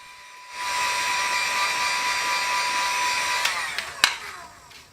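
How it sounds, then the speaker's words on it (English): Heat gun blowing on the end of a 1/4-inch vinyl hose during timing belt and water pump work on a 2004 Honda Pilot, a steady close whirring hiss with a faint whine and a couple of brief knocks near the end. "I used a heat gun to soften up the end of the hose since the fit is tight"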